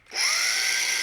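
A Bosch GWX 18V-15SC cordless X-LOCK angle grinder spins up quickly from silence to a steady high-pitched whine, running loud and close for about a second.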